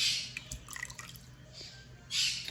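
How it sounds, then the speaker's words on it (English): Vinegar trickles into milk for homemade cheese, a faint splashy pour with soft drips in a quiet room, fading and then rising again at the end. "You put 1 cap of vinegar into your milk."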